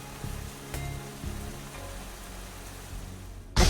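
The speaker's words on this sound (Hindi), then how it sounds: "बादल गड़गड़ा रहे थे, बिजली चमक रही थी और बहुत तेज बारिश हो रही थी।" Steady heavy rain pours down through a nighttime thunderstorm, a dense continuous hiss with a few low rumbling thumps early on and a sudden loud burst at the very end.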